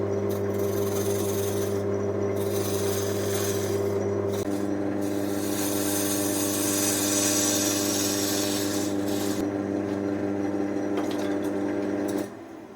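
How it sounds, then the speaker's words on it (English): Steady lathe hum with a continuous scraping rasp as a tool turns a roughly 60mm tenon on a laburnum wood blank, close and loud throughout, easing off near the end. "I'm going to turn down this tenon now."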